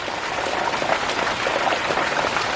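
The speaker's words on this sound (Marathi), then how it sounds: "पाऊस गावाला आता चांगला सुरू झाला आहे" Steady monsoon rain hisses down over a village without a break, a dense, even wash of drops filling the whole stretch.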